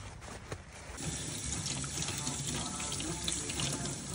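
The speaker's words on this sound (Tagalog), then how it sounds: "Huhugasan lang natin to ng maigi" Tap water runs steadily over rhubarb stalks being washed, a continuous close splashing and trickling at moderate level with no talking.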